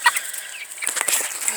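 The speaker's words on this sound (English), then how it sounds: "This Isa Brown is named Dakota Jr. after Dakota, the Brahma who died." Isa Brown and Brahma chickens make short clucks and soft chirpy calls nearby, scattered and irregular, with a little rustling and no talk.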